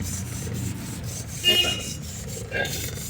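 A heated brass pot is scrubbed with short rough rubbing strokes during tin-lining work, two louder passes standing out over a low steady hum of a fire.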